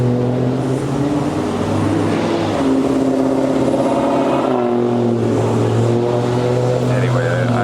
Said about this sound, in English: there's so much traffic here